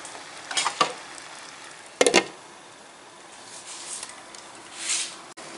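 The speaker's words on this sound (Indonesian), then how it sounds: "Ini sudah mendidih, sudah matang." Beef stew (semur) simmers in a covered pot, giving soft bubbling and sizzling with a few sharper bursts of stirring or lid clatter. The sounds are moderately close, with no talking.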